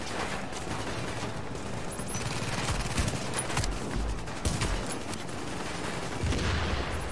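In The Division, a video game, gunfire rattles in repeated bursts of shots over a continuous game soundscape, moderately loud, with no voice over it.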